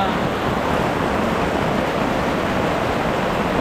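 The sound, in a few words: rain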